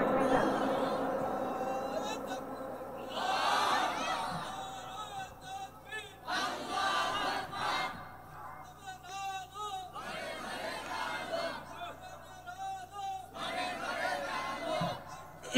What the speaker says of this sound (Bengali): একদম তাকবীর দেন।